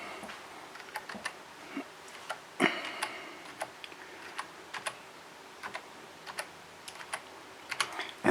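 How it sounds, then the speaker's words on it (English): Someone types a web address on a computer keyboard connected to a Raspberry Pi. The keystrokes tap irregularly, close and fairly quiet, with one louder clack near the middle and no speech. "Now I can go in and type the address for the Open CPN website."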